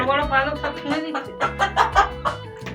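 Clucking chickens on a West Bengal poultry farm, where several sick birds have a paralysis-like condition, give repeated close calls in uneven bursts over a steady background murmur.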